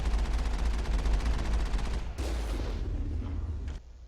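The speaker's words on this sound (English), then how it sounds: "I'm just going to shoot the big gun." A big gun in the video game Mass Effect fires in a rapid sustained burst of loud, low booming shots, then a couple of sharper blasts before cutting off.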